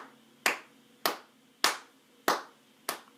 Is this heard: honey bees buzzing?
no